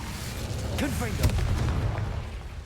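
Confringo fire spell blast in Hogwarts Legacy: a short burst of booming, crackling impact sounds near the middle of the clip, layered over steady game background noise.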